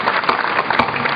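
Audience clapping at a Hindi comedy poetry recital (hasya kavi sammelan), a dense, steady patter of many hands throughout, fairly loud and close, with no speech over it.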